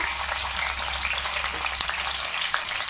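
Cumin seeds and green chillies frying in oil for an okra fry, giving a dense, even sizzle close by with faint crackles and one brief clink.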